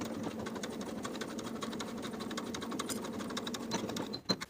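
A sewing machine stitches the front crotch seam of high-waisted jeans, running steadily and close for several seconds with a fast mechanical whir, then a brief clunk and pause at the end.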